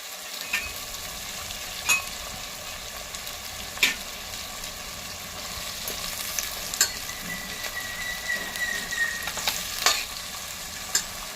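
Pigeon peas and beans for Surti undhiyu sizzle while being sautéed and stirred in a pan, with a soft continuous frying hiss and occasional sharp scraping clicks from the stirring.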